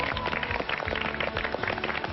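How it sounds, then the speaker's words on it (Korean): A Korean TV variety show's studio audience breaks into applause, a continuous patter of many hands clapping at moderate volume for a couple of seconds. "우리 이만갑 사우스포 힘내라고 박수 부탁드립니다"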